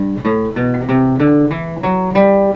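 An acoustic guitar picks a major scale, notes stepping upward one at a time in an even rhythm, each ringing clearly with nobody speaking.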